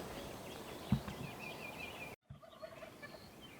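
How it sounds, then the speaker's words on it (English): Rio Grande turkey gobblers gobble from the roost at dawn in South Texas, a couple of distant, faint rattling calls over quiet outdoor ambience. "The gobblers are already gobbling."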